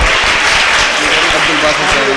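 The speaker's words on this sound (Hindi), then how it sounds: "इनके लिए तालियां भी थोड़ी सी ज्यादा बजा दीजिए" An audience claps continuously for a first-place prize winner at a school Seerat competition awards ceremony, a dense sustained burst of applause with voices mixed in.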